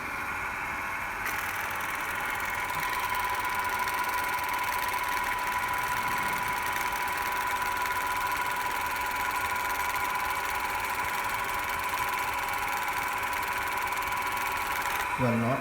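A DC motor hums steadily in an electrical machines lab during a speed-control test at about 75 volts and roughly 1200 RPM, a continuous tonal whine with mechanical buzz, close and unbroken, with a brief change near the end.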